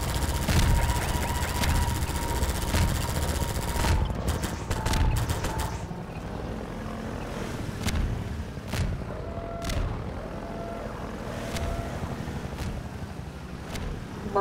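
Half-Life 2 played in Garry's Mod: a loud airboat engine drone with wind, bursts of rapid gunfire cracking around the four- to six-second mark, then sparser shots and a helicopter's steady hum under the engine.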